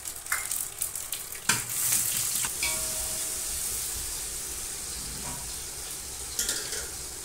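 Cumin and whole spices sizzling in butter and a little oil, bright crackling hiss with several sharp pops early on, close and continuous.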